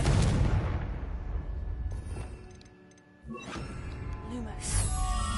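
In Hogwarts Legacy, a Confringo blasting spell bursts loud at the start and rumbles away, then further cracks and shattering impacts follow near the middle and end, with a voice speaking underneath.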